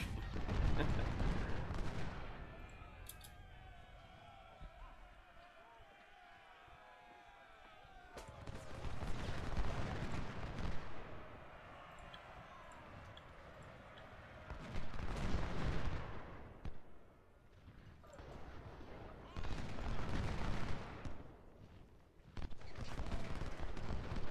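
Deep booming artillery volleys and crackling musket fire in a Second Bull Run Civil War game battle, coming in several loud waves separated by quieter rumbling stretches.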